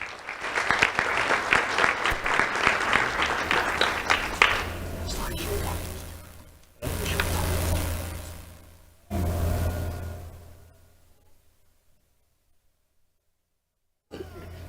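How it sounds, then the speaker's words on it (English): A crowd claps in a long burst of applause, then the clapping dies away in two shorter waves before falling silent. "Let's have a round of applause for Allie West."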